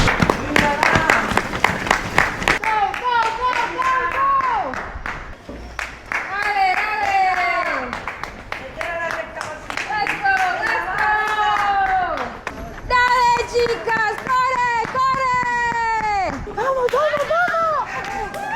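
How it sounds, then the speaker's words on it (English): Spectators cheering and clapping for runners passing during a street race in Spain, bursts of applause and shouts mixed with lively voices and whistles close by throughout. "So I'm gonna go cheer on some of the runners."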